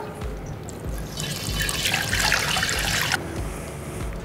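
No-rinse sanitizer solution poured through a funnel into a glass carboy for homebrewing, a loud gurgling rush of liquid that swells midway and then eases back to trickling.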